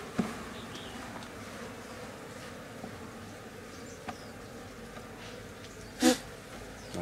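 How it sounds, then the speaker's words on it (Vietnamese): Honeybees buzz around hives during a lychee honey harvest after being smoked down, with a steady, thin insect hum, individual bees passing close by, and one brief louder bump near the end. "chúng ta xịt khói vào thì con ong nó sẽ tụt xuống bên dưới"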